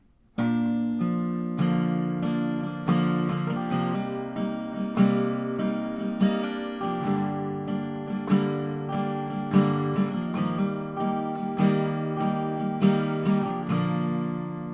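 A guitar plays the chord-based intro of a song at a steady tempo, notes plucked and strummed clearly and close, with no talking.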